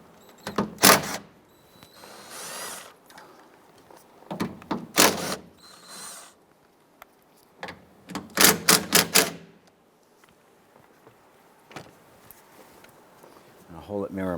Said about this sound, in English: Using your 7/16 socket, we're going to loosen and remove these nuts.